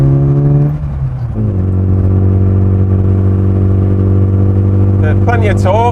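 A 1997 Classic Mini Cooper engine pulls steadily along a country road, a loud continuous drone that shifts pitch early on and then holds, with a voice speaking near the end.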